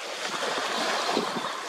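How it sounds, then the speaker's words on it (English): Water splashes and washes at a shoreline, a dense broadband rush of surf mixed with wind buffeting on the microphone, steady and close for under two seconds with no talk. "I'm getting splashed by this water over here"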